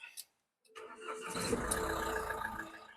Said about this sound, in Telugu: ఒకసారి ఇంజిన్ స్టార్ట్ చేస్తాము